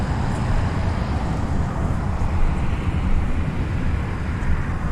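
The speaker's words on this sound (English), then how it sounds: "Now there's a lot of traffic noise out here." Road traffic noise outdoors on a walk through Dallas, a continuous low rumble of passing vehicles with a broad wash of engine and tire sound, steady and moderately loud, no talking.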